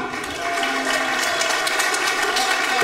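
Loud, steady crowd applause and roar fill a fight arena as a female fighter is introduced before the bout, sustained without a break.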